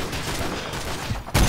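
Gunfire in the Call of Duty video game, with a sniper rifle shot on a rooftop mission; steady battle noise throughout, then a loud, sharp blast near the end.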